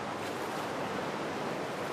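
Churning river water rushes and splashes during a whitewater descent on the Haut-Allier, a brief, continuous broadband wash heard at moderate level.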